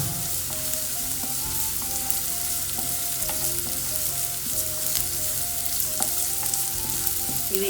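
Finely chopped ginger and garlic frying lightly in a pan for a restaurant-style chicken starter, a steady soft sizzle running throughout with occasional light scrapes and stirring clicks, alone without talk.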